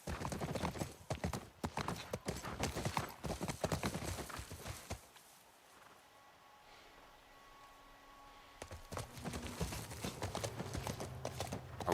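Horse hooves clip-clopping in the video game The Last of Us, a quick rhythmic trot, loud and close, that stops midway into a quieter stretch of ambience before the hoofbeats start up again.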